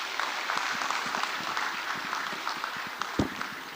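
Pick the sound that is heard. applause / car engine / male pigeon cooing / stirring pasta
applause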